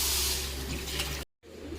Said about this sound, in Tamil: புளி தண்ணி ஊற்றிடுவோம்